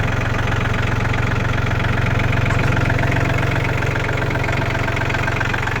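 A Yanmar 39 hp tractor engine idles loudly and close by, a steady, even diesel chug with a low rumble and slight knocking, continuous throughout with no voices.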